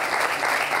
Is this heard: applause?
yes